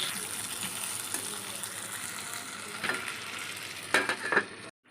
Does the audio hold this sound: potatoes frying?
yes